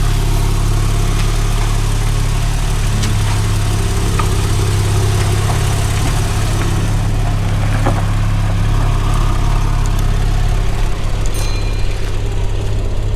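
A Porsche 911 50th anniversary edition pulls away under sunshine, its engine a steady, loud, close drone that holds throughout with no talk over it.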